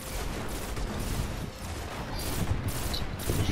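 Dense, rapid gunfire from the Destiny video game keeps up steadily for the whole stretch, with shots blurring into a continuous clatter and no talking.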